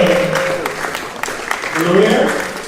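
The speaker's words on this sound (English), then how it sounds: "Please make the applause louder, very distinguished ladies and gentlemen." Audience applause at an African young leaders awards gala, a continuous clapping wash heard close and loud, with a voice speaking over it at the start and again near the end.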